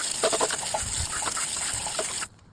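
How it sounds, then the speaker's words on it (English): Water sprays steadily onto a car tire during a detailing scrub, a close, continuous hissing gush that cuts off abruptly near the end. "So let's just check it out with the water and we'll go from there."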